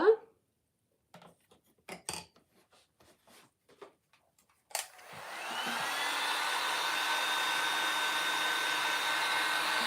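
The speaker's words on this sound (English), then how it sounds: "I'm just drying the glue a little bit so it will set up when I like it" Hair dryer blowing to set glue on a Thanksgiving craft insert: a few scattered clicks and light handling noises at first, then the dryer switches on to a steady, loud whooshing hum that continues to the end.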